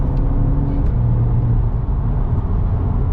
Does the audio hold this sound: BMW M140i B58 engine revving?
yes